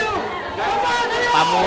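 Agitated crowd shouting and yelling inside the Philippine Senate during an armed intrusion, a dense, continuous wall of raised voices close by with overlapping cries rising toward the end.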